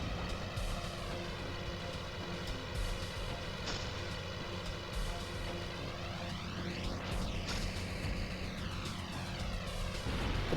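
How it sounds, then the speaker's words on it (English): A propeller airplane engine drones steadily and loudly in Spider-Man 2: Enter Electro as the plane flies out of control, its tone sweeping and shifting throughout with no voices over it. "That plane's out of control."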